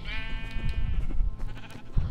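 A Minecraft sheep bleats with a clear, wavering call near the start, followed by softer game sounds and clicks, with a low thump near the end.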